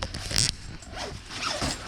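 A zipper on a manufactured bag is pulled open or shut in quick, close, raspy strokes, a sharp first pull followed by a couple of softer zips.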